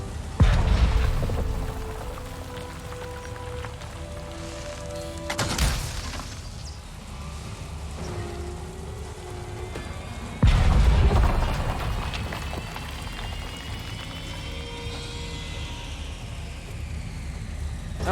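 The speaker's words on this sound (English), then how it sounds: "This would be our generator. Let's destroy it." A generator is destroyed in Avatar: Frontiers of Pandora, with loud booming blasts at the start and again midway, then rumbling debris and crackle fading under game ambience.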